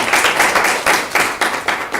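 A congressional staff briefing audience claps in a loud burst of close, overlapping hand claps with a rhythmic pulse, heard on its own without talk.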